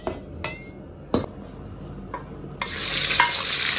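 Oil heats in a wok for a home-style Northeastern Chinese tofu sauce. A few sharp metallic clicks and scrapes come first, then a broad, steady sizzle swells up and holds to the end.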